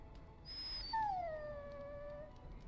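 A dog in the video game Dragon Age Origins lets out a clear, high whimper that slides downward in pitch and trails off, heard alone over quiet background.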